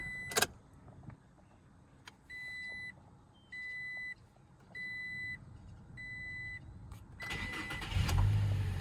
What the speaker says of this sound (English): Let's start it up here.